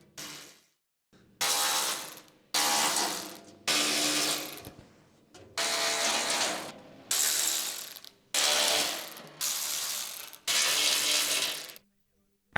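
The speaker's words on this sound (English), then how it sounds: "4mm hex socket with the medium-sized electric impact wrench to remove the side panel screws." An electric impact wrench with a 4mm hex socket removes UTV side panel screws, firing off eight rattling bursts of about a second each, separated by short pauses.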